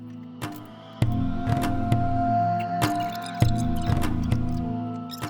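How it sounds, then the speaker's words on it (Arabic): Wet mud mixture being pressed and spread across the floor of a reptile enclosure built for a tokay gecko, heard close up as soft squelches and sticky slaps in an irregular rhythm, each set apart by short pauses. "فانا خلاص هوصل خلطه الطين اللي انا عاملها ديت للارضيه"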